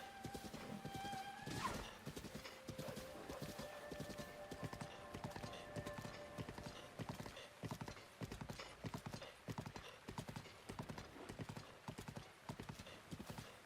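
Horse hooves clip-clopping in a steady, quick rhythm throughout, fairly faint and moderately distant, with a whinny and brief tones early on.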